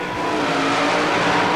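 A Jeep CJ super modified mud racer roars off the line at a 1991 Tampa Stadium mud race, a loud steady engine blare with no break.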